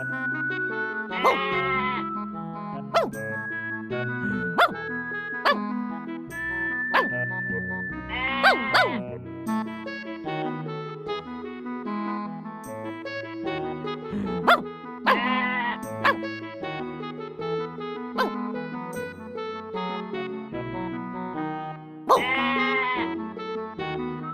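Video game sheep bleat repeatedly as they are herded into pens, several bleats spread across the stretch over game music with bright chimes and plucked notes.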